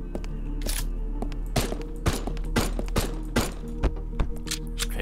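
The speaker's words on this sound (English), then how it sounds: "Okay, 5 shots takes those guys down." Gunfire in the video game Haydee: a series of sharp, punchy shots fired at irregular intervals, about eight distinct cracks over a steady low background hum, with no talking.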